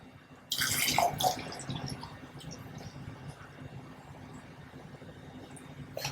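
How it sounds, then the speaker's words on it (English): Distilled water pours into a hydrogen water bottle, a steady splashing rush that starts loud and settles into a softer continuous trickle near the microphone, with no talking. "let's go ahead and fill it up with water"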